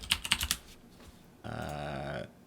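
Typing on a computer keyboard at a desk, entering a web address: a quick cluster of crisp key clicks at the start, then a steadier burst of rapid keystrokes, close and fairly quiet.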